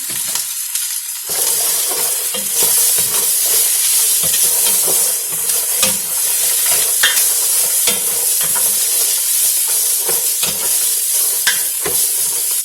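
Carrots and celery hit a very hot pan of olive oil and sizzle loudly and continuously, with clattering stirring noises scattered throughout, close by and with no talking.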